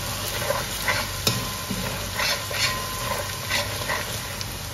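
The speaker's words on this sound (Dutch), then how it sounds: "Die is mooi aan het bakken." Chicken pieces frying in a pan for Surinamese pomtayer, a steady crackling sizzle with occasional stirring clinks and scrapes, close and continuous.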